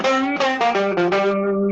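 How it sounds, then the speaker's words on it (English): A banjo plays a short blues lick in G, a quick run of bright, twangy notes with ringing overtones and a distorted, processed edge, loud and close with no voices. "Let's say you have one for G that sounds like this."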